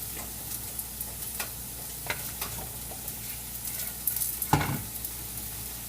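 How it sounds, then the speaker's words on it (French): Protein pancake batter cooking in a frying pan gives a soft, close sizzle with scattered ticks and small scraping sounds, rising into a brief louder stir or scrape near the end; no one speaks. "Je vais le verser dans ma poêle. Pour faire une belle pancake."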